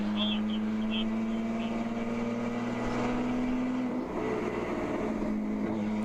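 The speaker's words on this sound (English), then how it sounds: "Sounds like the engine's like really low" Low, steady drone of an endurance race car engine held at low revs during a 14-hour ChampCar enduro at Charlotte, a sustained hum with a constant tone, slight dip near the end, and voices faintly underneath.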